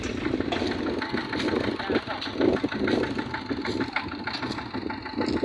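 A farm tractor engine idles with a steady mid-pitched rumble and regular knocking pulses, with people talking over it throughout.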